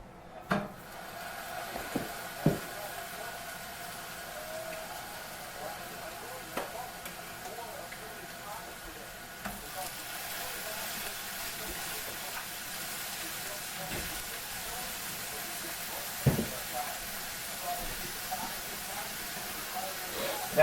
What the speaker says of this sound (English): Go ahead and start making our patties here, and drop those into the skillet.